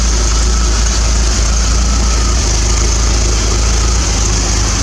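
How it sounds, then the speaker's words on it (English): A 1980 Triumph TR7 engine idles without choke, a steady, loud, low throb that runs unbroken and close throughout, with no voices. "And that's just idling with no choke."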